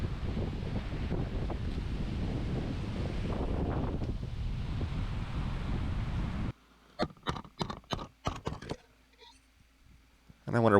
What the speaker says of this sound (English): but it is just a misty, windy,